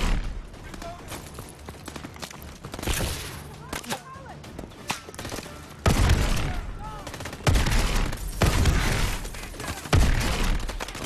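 Rapid bursts of futuristic energy-weapon fire from a Call of Duty: Advanced Warfare campaign firefight, loud and repeated, with heavier blasts midway and a voice talking over parts of the battle.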